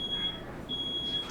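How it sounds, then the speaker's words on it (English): A smoke alarm in a bedroom emits two long, steady, high-pitched beeps separated by a brief gap, over a quiet room hiss. "Smoke alarm going off."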